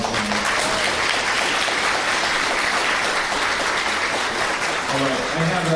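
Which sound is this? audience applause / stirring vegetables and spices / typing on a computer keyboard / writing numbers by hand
audience applause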